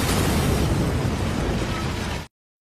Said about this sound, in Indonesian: mobil pun seketika meledak